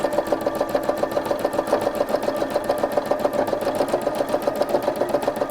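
A sewing machine stitches fabric in a fast, even, continuous needle rhythm, close and steady with no talking over it.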